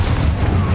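Brief, loud booming blast from a Confringo explosive spell in the video game Hogwarts Legacy, a dense low thump lasting under a second with no voices.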